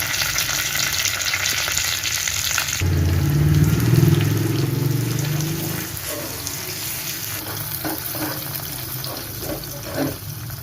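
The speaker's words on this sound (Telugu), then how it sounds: "1 స్పూన్ జీలకర్ర, కొంచెం ఆనియన్స్, కొంచెం కరివేపాకు, కొంచెం ఇంగువ వేసుకుని వేయించుకోవాలి" Cumin, onions, curry leaves and asafoetida frying for a sambar tempering, a continuous loud sizzle and crackle that swells when the ingredients hit the hot oil, then settles into a softer hiss with light stirring sounds.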